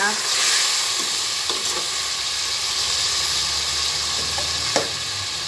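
Tomatoes sizzling steadily in a pan for Filipino pinakbet, a continuous close frying hiss with occasional soft stirring knocks.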